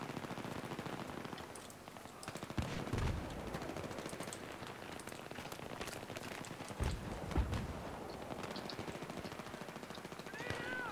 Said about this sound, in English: All these people with automatic weapons.